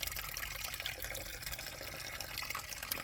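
Water from a tap running into a container to fill it, a continuous soft splashing rush that stays faint and steady throughout.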